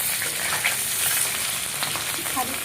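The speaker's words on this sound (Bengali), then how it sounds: "ডিমগুলো হালকা হালকা করে ভেজে নিচ্ছি" Eggs fry in hot oil with a steady, dense sizzle that fills the pan, crackling and popping throughout at close range with no voices.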